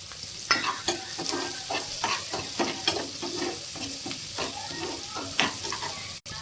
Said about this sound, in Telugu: సో ఈ వేసినవన్నీ కొంచెం అవి ఫ్రై అయ్యేలా మనం వేయించుకోవాలి